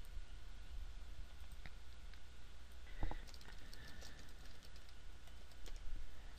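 Someone types on a computer keyboard while working in Word 2010, producing scattered light key clicks with one sharper tap partway through. The clicks sit over a steady background hiss.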